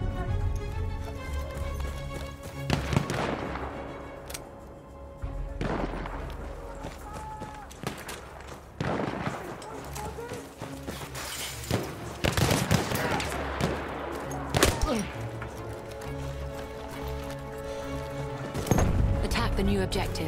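Battlefield 1 Rush-mode battle sounds: repeated loud explosive impacts and bursts of gunfire from an enemy artillery barrage, layered over a continuous rumble and music-like tones, with irregular heavy hits spread across the whole stretch.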